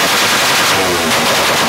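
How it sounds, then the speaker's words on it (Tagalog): Raider Fi motorcycle with a tuned exhaust pipe revving hard, a loud, dense, rattling roar that stays steady and close for under two seconds with no talk. "Pero iba po talaga sa personal yung tunog po ng ating motor."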